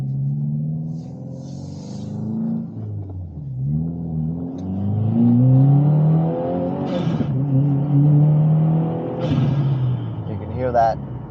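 A 2022 Subaru WRX fitted with a Burger Motorsports intake pulling through second and third gear, its engine droning and rising in pitch, dipping at each shift, with intake whooshes and a flutter as the throttle lifts at the end.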